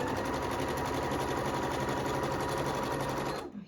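A sewing machine stitches quilt pieces in a fast, even whirring hum up close, running steadily before stopping abruptly at the end.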